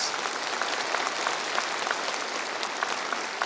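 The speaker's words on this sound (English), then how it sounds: "a big round of applause to Elder Henry and our Cedar Hill singers" Audience applause at a university mathematics convocation ceremony for an elder and a choir of singers, a dense, steady wash of many hands clapping that holds evenly throughout without anyone speaking.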